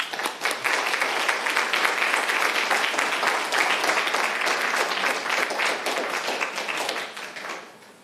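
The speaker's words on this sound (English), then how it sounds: "please join me in a round of applause" A room full of people at a Tacoma city council meeting breaks into sustained, close applause, dense steady clapping that holds for several seconds and then tapers off at the end.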